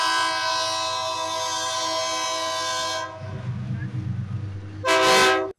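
A train on Nigeria's Eastern rail line sounds a long, loud sustained horn as it passes, then the rumble and clatter of the cars rolling by, capped by a brief second horn blast near the end.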